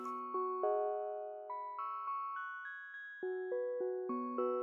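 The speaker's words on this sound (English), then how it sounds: "I repeated a 4-bar piano loop." A four-bar piano loop repeats in an R&B beat, clear single piano notes and chords struck at a steady pace, stepping up then dropping back down, alone and moderately loud.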